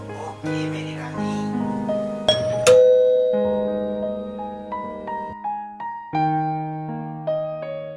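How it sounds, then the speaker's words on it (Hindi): An electronic doorbell rings at a house door, playing a loud multi-note chime melody of sustained tones that carries on for several seconds without talk. "दरवाजे के पास में आपने घंटी लगवा रखी है, पहले उससे बजाइए।"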